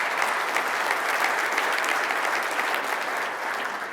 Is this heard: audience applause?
yes